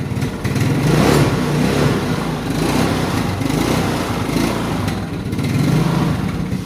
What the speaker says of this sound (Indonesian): di sini untuk posisi motornya sudah hidup ya teman-teman